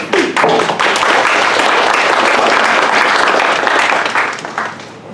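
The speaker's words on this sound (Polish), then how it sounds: "a brawa, dla naszego drugiego panelisty." Audience applause for a panelist at a humanities café discussion, loud, dense clapping sustained for several seconds before fading out at the end.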